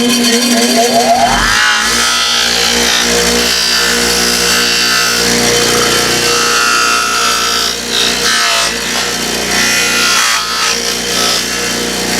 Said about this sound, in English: Take it over here to the polisher.